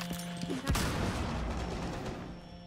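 Gunfire in a video game, a rapid burst of shots followed by a dense rolling crackle of fire, close and fairly loud, with no clear talk.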